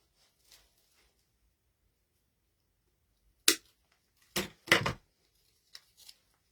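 Scissors cut out paper flower shapes in a few short, sharp snips separated by quiet pauses, close and clear, with no talking.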